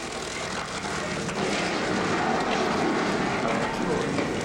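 A stunt airplane's propeller engine droning steadily in a film, engine losing power before a crash into a carnival, with a continuous broadband roar under people talking.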